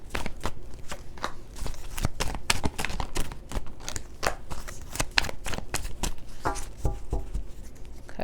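Tarot cards shuffled by hand: a steady run of quick, crisp riffling and slapping clicks that continues for about eight seconds, close and fairly loud, with no talking.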